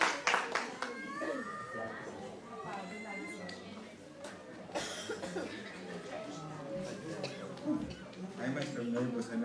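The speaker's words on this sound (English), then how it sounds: "Let's give a clap offering." A church congregation claps during a Sunday worship service, with scattered handclaps early on and patchy applause spread through a room full of murmuring voices, coughs and chatter.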